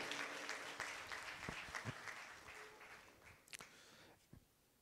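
A conference audience applauds, a dense patter of clapping that gradually fades out with a few last scattered claps.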